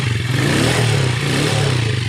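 A motorcycle engine that was flooded with water idles roughly, its exhaust sputtering and chugging in a fast, steady pulse with a deep rumble, loud and close, with no voices.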